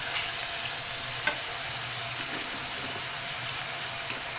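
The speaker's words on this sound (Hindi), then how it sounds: "पहले हम इसे बहुत अच्छी तरह जो है ऑयल के साथ फ्राई करेंगे ताकि इसका बिल्कुल कच्चापन" Minced meat keema frying in oil in a pan, a steady fairly quiet sizzle with a faint stirring knock about a second in, with no talking.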